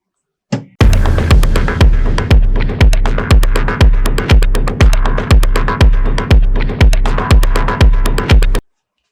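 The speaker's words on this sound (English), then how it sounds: "it will start going through its automatic calibration" A FlashForge 5M Pro 3D printer runs its automatic calibration, pulsing with a loud, steady low throbbing of about two beats per second that starts abruptly, continues for around eight seconds and then stops, close up with no talking.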